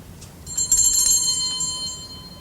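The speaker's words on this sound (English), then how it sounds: "you'll find a little bell in there on the table" A small table bell rung once in a drawing-room scene, a bright metallic ding that rings on and slowly decays over a quiet background hiss.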